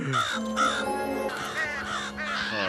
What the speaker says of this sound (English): Homer becoming the leader of crows?